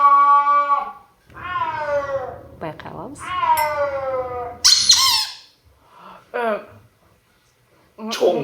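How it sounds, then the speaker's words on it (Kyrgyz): A snow leopard's calls play during a guessing-game show, a series of rising and falling mewing wails and squeaks separated by short gaps, with a person briefly speaking. "Кызыл китепке кирген жырткыч. Илбирс, албетте, ак илбирс"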